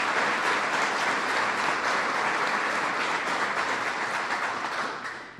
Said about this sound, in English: Let's give all of these great public officials a rousing round of applause